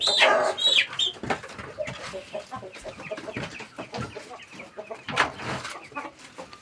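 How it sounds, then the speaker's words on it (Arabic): A young hen kept among a backyard flock clucks in short, broken bursts close by, with some higher chirps near the start and no talking over it. "الفرخة ديت يا جماعة أنا نقلتها هنا عشان بس برضه لسه صغيرة."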